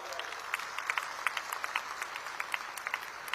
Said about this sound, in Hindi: बच्चियों के लिए एक बार जोर से ताली बजाओ जरा।